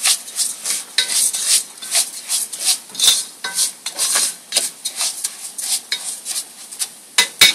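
Food sizzles and crackles steadily in oil in a hot pan, close up, with dense irregular pops throughout and no talking, while Mexican rice is being cooked.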